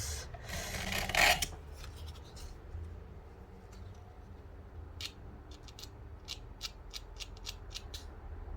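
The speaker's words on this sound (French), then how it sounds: "je vais essayer de limer un petit peu" A paper trimmer blade used for scrapbooking is filed by hand, a close, dry rasp at first followed by a quieter stretch of short, regularly spaced scraping strokes.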